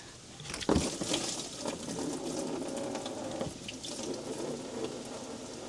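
Coolant drains from a 2004-2008 Dodge Ram 1500 radiator into a drain pan with a steady, close splashing trickle, opened by a brief clunk near the start.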